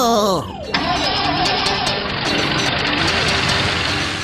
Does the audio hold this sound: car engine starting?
yes